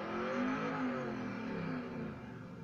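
The Warthog's engine revs in the racing game Forza Motorsport 4, a steady, loud, droning rumble that swells and eases slightly over a few seconds with no voices.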